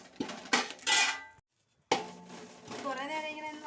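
Coriander seeds and curry leaves are roasted in a pan, with repeated metallic scraping and clinks of the spoon against the pan, broken by a brief pause, and a voice is heard briefly.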